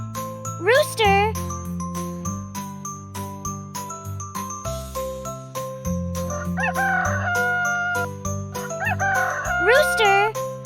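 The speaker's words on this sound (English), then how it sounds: "Rooster." Rooster crowing twice over a jingly, tinkling children's music bed, the crows loud and rising near the start and again toward the end.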